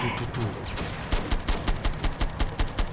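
Rapid repeated gunfire from a Home Wars video game weapon, a steady rhythmic burst of evenly spaced shots about four per second, loud and close, with a brief softer stretch of game noise before the firing begins.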